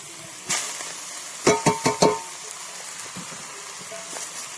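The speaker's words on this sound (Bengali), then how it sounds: "দিয়ে ভালো করে আমি নাড়িয়ে চাড়িয়ে নেবো।" Chow mein with vegetables stirred in a pan, a soft sizzle under a quick cluster of four sharp spatula scrapes and knocks, followed by lighter scattered clinks, close by and with no speech.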